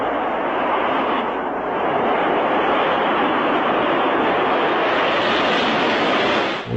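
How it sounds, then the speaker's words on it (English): A missile lifting off from Vandenberg roars as a steady, loud, broadband rumble that barely changes in level across the whole stretch, with no voices over it. "All cameras rolled as they heard liftoff from Vandenberg over their radio."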